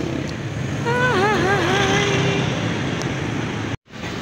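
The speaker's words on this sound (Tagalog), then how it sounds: "Nasa highway kami mga kapiks." Highway traffic roars steadily as vehicles rush past, with a brief wavering whistle-like tone rising over the constant road noise before the sound cuts out abruptly near the end.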